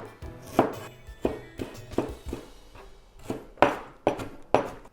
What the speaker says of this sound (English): So I'm just going to cut some ginger slices.